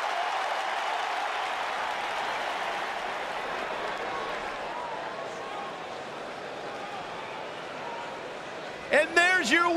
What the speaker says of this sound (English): This Atlanta crowd showing their appreciation for a great match